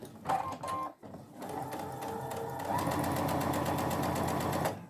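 A sewing machine runs in short stops and starts, then settles into a steady, rapid rhythmic stitching while sewing a curve on a fabric peg apron, close and clear.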